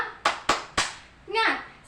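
In a classroom, a teacher leads children through the 'tepuk semangat' clapping routine: three sharp, close claps in quick rhythm, then a brief spoken call.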